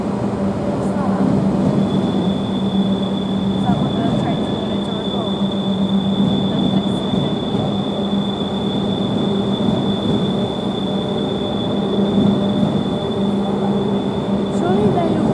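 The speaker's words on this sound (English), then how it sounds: "we notice one of the classic Eurostar trains that go to France" A Eurostar Class 373 high-speed train passes close by, giving a steady, loud rumble of rolling wheels with a sustained high whine that holds from start to finish.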